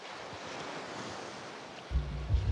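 Wind and waves on a beach make a steady broadband roar of surf and wind buffeting, with low thumps from gusts hitting the microphone near the end.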